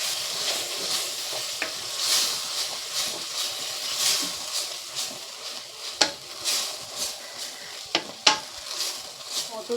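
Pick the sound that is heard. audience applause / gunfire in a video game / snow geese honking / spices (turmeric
spices (turmeric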